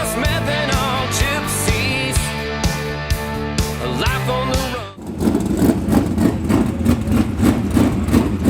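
A dirt track race car engine warming up at the track, a steady loud idle with strong harmonic drone that shifts abruptly into a rougher, rumbling higher-revving roar midway, close by.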